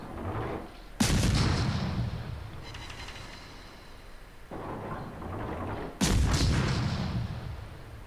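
Heavy naval guns on the ship Phra Ruang boom in a video game, with two big, deep salvos a few seconds apart and a smaller blast between them, each rumbling away amid constant low background noise.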